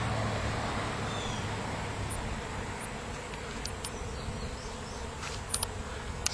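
A swarm of honey bees hums steadily as it funnels into the roughly 1.5-inch entrance hole of a swarm trap outdoors. The buzzing is continuous and dense, with occasional louder individual bees passing close and faint traffic far behind.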